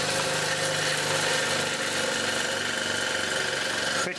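A single phase motor driven by a VFD runs at speed, giving a close, steady mechanical hum with a faint vibrating whine, continuous until a brief drop at the end.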